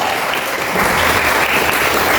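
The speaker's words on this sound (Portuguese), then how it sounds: "E as palmas glorificam a Deus." Loud, continuous clapping from a church congregation during a service, many hands at once, growing slightly fuller partway through and staying unbroken to the end.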